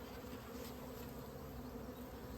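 Honey bees swarm around mini mating nucs and supers with a dense, steady buzzing drone that holds constant and close throughout, with no voices.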